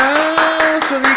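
Rhythmic clapping accompanies a live singer performing in a radio studio, brisk evenly spaced claps ringing out under a sustained sung tone throughout the short stretch.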